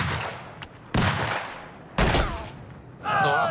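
Soldiers fire rifle volleys on command, three sharp loud cracks about a second apart, each ringing out in a long echoing tail, with a shouted voice rising at the end.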